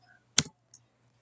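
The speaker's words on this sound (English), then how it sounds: "And so you want to click Enter or OK." A single close, crisp mouse click while confirming Enter or OK on a PC, followed by a fainter small tick, against a quiet low hum.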